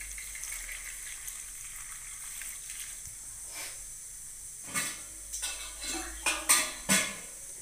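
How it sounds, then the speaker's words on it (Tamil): Rose petals being rinsed in water inside a vessel: a steady soft hiss of running water, then a few louder clinking splashes and knocks near the end as the bowl is handled, close and without talk. "இப்போ நல்லா இது தண்ணி ஊற்றி அலசி எடுத்துக்கலாம்."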